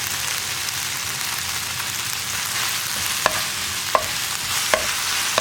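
Chili sauce being stirred and cooked in a pan, with a steady broadband sizzle throughout and several sharp clicks of the utensil against the pan; no one speaks.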